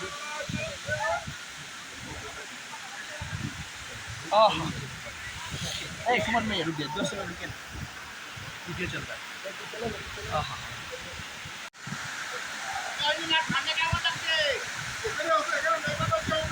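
Changey waterfall near Lava, about 300 metres high, heard from close to the water as a steady broad rushing roar, with people talking over it throughout.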